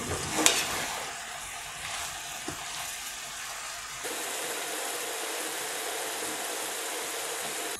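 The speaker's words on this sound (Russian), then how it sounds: "Далее в сковородку отправляем шампиньоны и готовим до тех пор, пока вся влага не выпарится." Champignon mushrooms frying in a pan give a steady, soft sizzle and crackle with a few light clinks early on, the hiss continuing evenly without talking.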